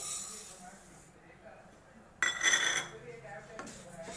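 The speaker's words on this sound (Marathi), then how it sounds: "आपण एक पॅन ठेवलेला आहे तापवायला सगळ्यात आधी आपल्याला तीळ भाजून घ्यायचं आहे" Sesame seeds go into a heating pan to roast for til-gul chikki. After a soft hiss, a sudden rattling clatter comes up close and settles into lighter rustling.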